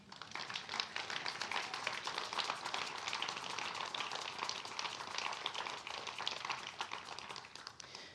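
A church congregation at a Sunday service claps steadily together, a dense, continuous patter of many hands heard faintly from a distance throughout.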